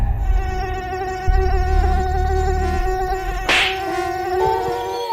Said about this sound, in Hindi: उनके कानों पर मच्छर भिनभिनाते रहते हैं।